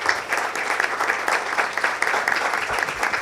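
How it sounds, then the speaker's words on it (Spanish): A crowd applauds steadily, a dense wash of clapping hands that holds for a few seconds without letting up. "Les pido un aplauso para la mesa"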